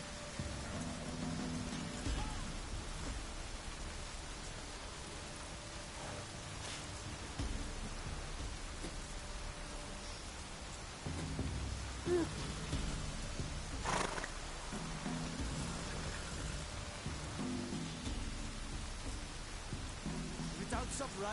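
Rain falls steadily in a Witcher game scene while low thunder rumbles at intervals, faint and distant overall, with muffled horse sounds and a brief voice mixed in.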